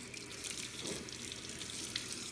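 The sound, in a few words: water rinsing hair under tap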